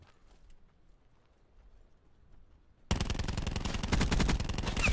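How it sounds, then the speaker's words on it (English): Gunfire in the video game Blackout, a sudden loud burst of rapid automatic shots that starts abruptly midway after quiet ambience and continues densely to the end. "I'm getting shot at already."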